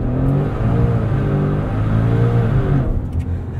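A Maserati Levante Trofeo SUV's turbo engine makes a launch-control start with a loud, close, rising roar and gear shifts that drop and climb again, with no talk over it.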